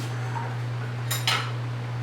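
A metal spoon knocks and scrapes against a pot of kale soup while scooping a taste, two quick clinks over a steady background hum, with no talk.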